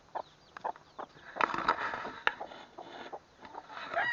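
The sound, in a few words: hens and chicks clucking and pecking at food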